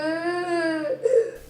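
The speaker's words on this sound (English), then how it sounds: "to the cries of a child." A young child cries out in a sustained, wavering wail that breaks into a short sob, close and loud.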